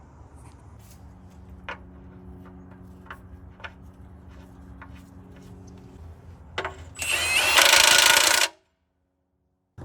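A 1.5-inch socket wrench threads a bolt back onto a 3406E dump truck: scattered light clicks over a low steady hum, then a loud, harsh burst of tool noise lasting about two seconds before cutting off.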